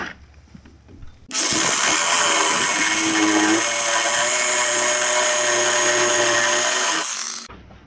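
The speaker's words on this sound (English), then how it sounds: "I'll take my sawzall and I'll cut this off right here." A reciprocating saw cuts through a steel anchor rod on a dovetail log cabin build, a loud, close, harsh buzzing whine that starts abruptly, runs steadily for about six seconds and then stops.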